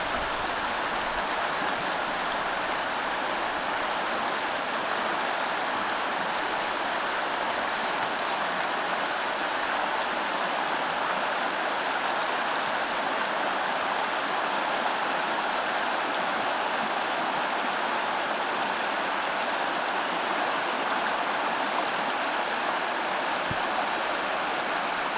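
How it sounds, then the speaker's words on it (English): A creek flows steadily through a wooded stretch of New York in the rain, giving a dense, even rush of water and rainfall that stays close and constant throughout with no voices. "and hear the sounds of the water."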